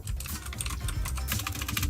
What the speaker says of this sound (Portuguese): Olha o teclado barulhento.